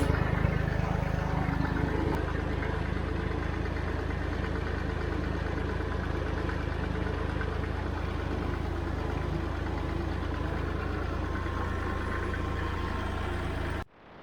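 A John Deere tractor pulling a hay rake across a field gives a steady, loud engine drone that holds evenly for about fourteen seconds and then cuts off, with no talking.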